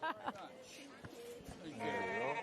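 Sheep bleat in the sheep ring of an agricultural show, several short, wavering calls at moderate distance mixed with crowd and voices.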